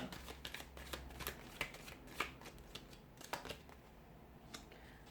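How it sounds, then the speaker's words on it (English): Tarot cards being shuffled in quick riffling bursts and soft slaps, a steady run of papery flicks with brief pauses, close and fairly quiet. "we'll give the cards a shuffle"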